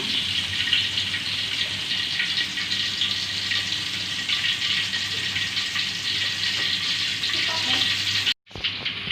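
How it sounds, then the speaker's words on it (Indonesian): Close, steady sizzling of a blended spice paste frying in hot oil goes on for several seconds, then cuts off abruptly near the end. "Kemudian kita tumis."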